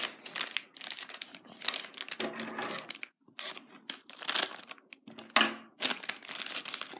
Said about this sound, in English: let's cut open our surprises.